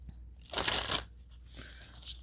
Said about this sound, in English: let me just give it just a couple shuffles